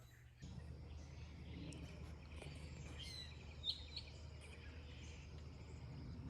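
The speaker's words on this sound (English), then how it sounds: "Birds have been singing like crazy." Birds chirp and sing outside a workshop, small scattered calls and one brighter tweet over a steady low hum, moderately distant and fairly faint, with no one talking.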